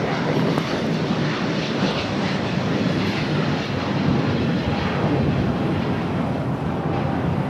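Airbus A350-1000 airliner at LAX, a loud steady jet engine roar rumbling close by without a break, no voices over it.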